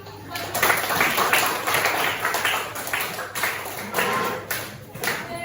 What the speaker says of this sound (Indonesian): Masih beri tepuk tangan.